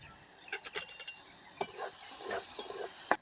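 Beans, carrot and capsicum stirred in a pan with salt, a few light metallic scrapes and clinks of a spoon against the pan, close and fairly quiet.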